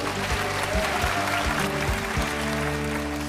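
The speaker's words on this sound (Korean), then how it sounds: "박수 보내주세요" Applause from a studio audience on a Korean singing talent show, a continuous wash of clapping under a steady background hum and tonal drone.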